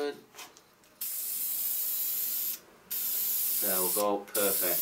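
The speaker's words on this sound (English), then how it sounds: "Nice, even sprays. Again, don't get too close and don't overspray." Short hissing bursts from an aerosol spray can apply finish to a turned wooden handle, each burst separated by brief pauses, and someone speaks briefly between the last sprays.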